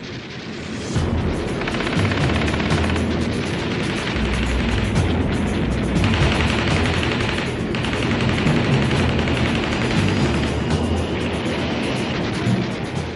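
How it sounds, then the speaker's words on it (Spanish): Machine guns fire during air combat between German fighters and B-17 bombers, with dense, continuous rattling bursts and booming blasts over a loud droning roar, sustained for the whole stretch without any talk. "Los cazas alemanes atacaban a los bombarderos de cerca con ametralladoras de 22 milímetros."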